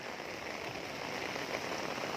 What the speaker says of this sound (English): So many raining. Very big.